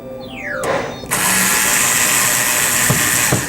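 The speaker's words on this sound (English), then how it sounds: "just removing all these Phillips screws" A power screwdriver whirs in short bursts as it backs out Phillips screws from a pinball machine, with a rising motor whine, then a steady ratcheting buzz and a couple of small clicks close by.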